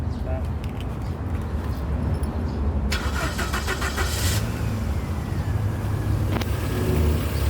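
A Chevrolet Aveo engine running just after a start, following a misfire from wrongly connected spark plug coil plugs; a steady mid-pitched idle fills the recording, with a brief higher whir and clicks partway through.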